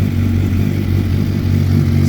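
A Suzuki GSX-R1000 motorcycle fitted with a full M4 exhaust idles close by, a loud, steady, deep burble with an even low pulsing throb and no revving.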